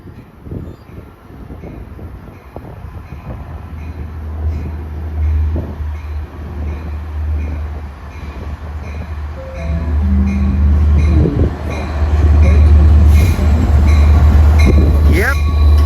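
A Long Island Rail Road double-decker commuter train rumbles past at close range, its steady low roar swelling louder toward the end, with squealing wheels and a distant voice.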